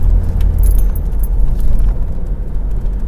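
A 1985 Chevy Caprice Classic station wagon with a Rochester Quadrajet carburetor kicking down and pulling hard, a loud, deep engine rumble from inside the car with faint rattling jingles over it.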